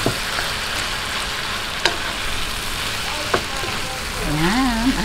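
Ground pork sautés with softened tomatoes in a pan for picadillo, a steady close sizzle with occasional stirring clatters; a voice briefly speaks near the end.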